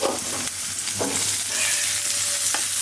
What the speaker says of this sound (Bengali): অল্প তেলে সুন্দর করে বেগুনটা ভাজলাম